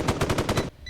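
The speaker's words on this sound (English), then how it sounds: "why are you shooting?" Rapid automatic gunfire in a multiplayer horror video game: a burst of about six quick, loud shots in even rhythm, ending abruptly.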